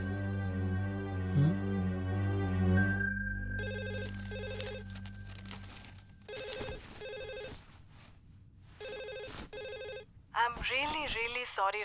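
A telephone rings in repeated electronic bursts of bell-like tones with short gaps between them, clear and close. A sustained musical tone plays first, and a voice speaks briefly near the end.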